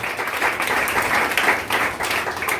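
An audience claps loudly and steadily at a spiritual talk, a dense, even wash of many hands that holds for the whole stretch with small swells and no voices.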